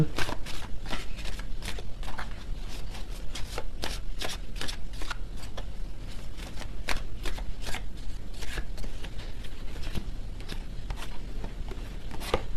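A deck of tarot cards is shuffled and dealt out by hand, a close, continuous run of crisp riffling snaps and slaps repeating in quick, uneven bursts for the whole stretch.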